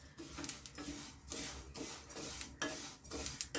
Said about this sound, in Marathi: चला तर मग आता तीळ ना एक एक बाऊल आधी भाजून घ्यायचा